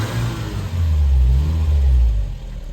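Škoda Felicia engine running close by, low steady rumble swelling into a sustained rev in the middle and easing back down near the end, no talk over it.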